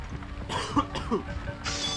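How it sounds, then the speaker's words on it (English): A single person coughs a couple of times in a short burst, close to the microphone, with no other talk. "I just got a cough right there"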